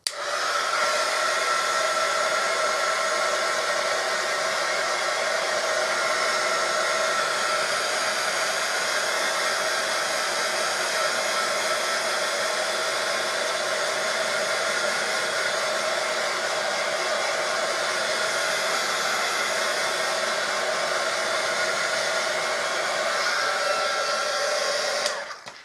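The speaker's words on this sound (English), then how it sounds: "I'm going to turn on my heat gun." A heat gun runs continuously while drying paint on a small vintage washboard craft piece, a steady loud airy whir with a high whine held for about 25 seconds, alone with no talking, cutting off at the end.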